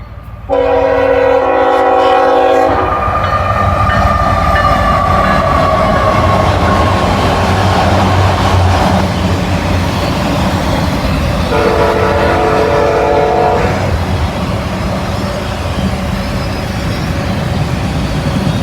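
A southbound freight train hauling loaded auto racks rolls past close by, its horn blaring in long sustained blasts at the start and again midway over a steady, loud rumble of wheels and cars.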